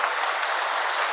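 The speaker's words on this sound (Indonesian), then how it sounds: "Tepuk tangan sekali lagi." An audience claps in a dense, even burst of applause at a traditional arts event, loud and sustained for a brief moment with no voices over it.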